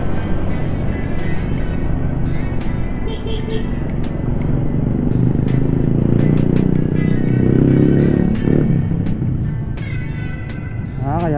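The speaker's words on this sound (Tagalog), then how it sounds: "Truck ng basura." A garbage truck passes on a busy city street, its rumbling engine rising and swelling in the middle amid steady traffic noise, with brief clanks and other vehicles around.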